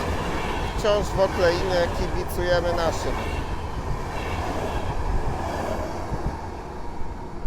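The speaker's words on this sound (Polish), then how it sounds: "I jednocześnie startuje pociąg osobowy z Warszawy Wschodniej do Grodziska Mazowieckiego" A passenger train pulls out of Warszawa Wschodnia bound for Grodzisk Mazowiecki, a rumbling rail roar with faint clatter running beneath someone talking throughout.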